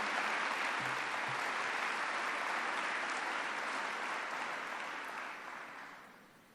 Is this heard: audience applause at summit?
yes